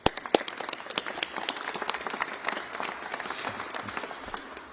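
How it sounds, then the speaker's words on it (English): A press-conference crowd in Minneapolis gives a round of applause, scattered sharp claps building into steady clapping from a modest audience, fairly close, with no one speaking over it. "Would you please give him a warm round of applause?"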